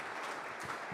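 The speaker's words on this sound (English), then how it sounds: "let's give them a round of applause" A crowd at a political candidates' event in Dallas County claps in a brief, dense burst of applause, steady and fairly close.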